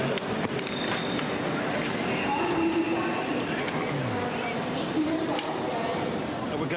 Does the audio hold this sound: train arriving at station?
yes